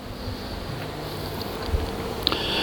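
A Craftsman 6-gallon air compressor motor runs with a steady, buzzing mechanical hum at moderate volume, droning without a break as it cycles.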